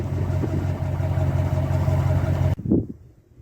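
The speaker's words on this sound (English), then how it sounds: "Man, that Hemi engine sounds good." A Dodge truck's Hemi V8 idling nearby, a steady low rumble that runs evenly for about two and a half seconds before cutting off abruptly, leaving a brief faint thump and near silence.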